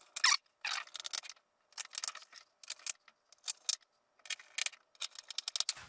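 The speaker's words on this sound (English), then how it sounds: "So let's keep putting these screws back." Small screws being driven back into an Asus X751L laptop with a screwdriver, repeated quick bursts of close, crisp metallic ticking and scraping separated by short silent gaps.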